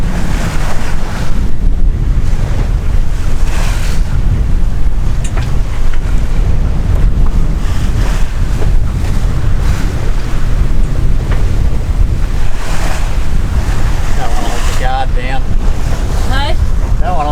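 A sailboat runs on smooth water in a 20-knot beam wind, with steady waves and a strong wind roar buffeting the microphone throughout.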